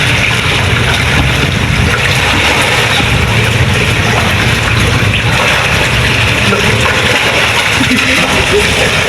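River current flowing beneath a bridge between Babag 1 and Cordova, a loud, unbroken rushing wash that holds steady throughout with no clear pauses.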